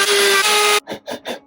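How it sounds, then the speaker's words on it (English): A power drill used while building a garden entrance gives a steady, loud whir for under a second, then stops. Three short rasping strokes follow in a quick rhythm. "Drill."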